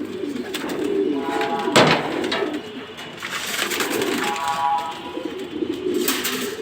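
Racing homing pigeons coo in low, repeated rolling phrases that come and go through the whole stretch, close by, with a sharp crack near the middle and no talking.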